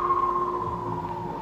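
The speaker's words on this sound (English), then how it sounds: "That's the sound of the mouse disappearing back into its burrow." Synthesizer effect for a mouse slipping back into its burrow: a steady electronic tone that fades away in a long decay, heard alone and fairly loud.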